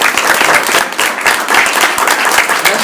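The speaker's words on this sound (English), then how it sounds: "one final round of applause." Steady applause from a student showcase audience fills the whole stretch, dense overlapping claps at close range with no talk over it.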